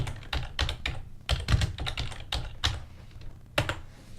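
Someone types code on a computer keyboard at a close distance, producing quick irregular clusters of key clicks with brief pauses between the bursts.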